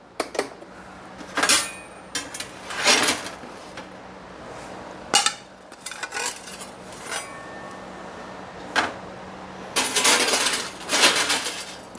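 Dishes and pans clink and clatter in a home kitchen while vegan French bread pizza is being plated, several separate bursts of handling noise spread across the stretch with quiet gaps between them and no talking.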